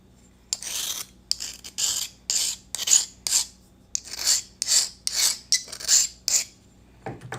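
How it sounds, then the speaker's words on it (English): A sanding tool rasps against a ceramic mini vase during trimming, a series of close, short scraping strokes in an irregular rhythm with brief pauses between them. "Just grab my sanding tool."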